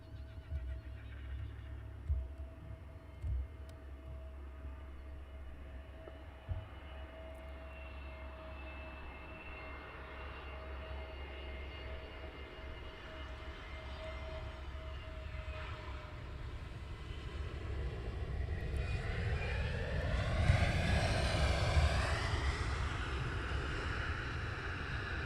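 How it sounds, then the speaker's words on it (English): An easyJet airliner approaches Luton Airport through fog and very low cloud, its engine roar building from a distant hum into a louder, rising whine near the end, with wind noise underneath throughout. "This is EasyJet. Coming through the morning cloud, very low cloud base this morning here."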